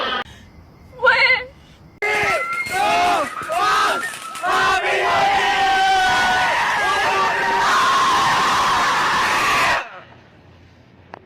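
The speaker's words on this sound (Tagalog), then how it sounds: "Ba't ka sumisigaw?" A few brief vocal outbursts lead into a classroom crowd of students shouting and yelling together, loud and sustained, before cutting off abruptly.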